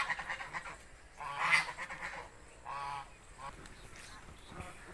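Domestic geese and other fowl kept at a village home honk in several separate bursts, one louder call near the middle, moderately distant with quiet ambient noise between the calls.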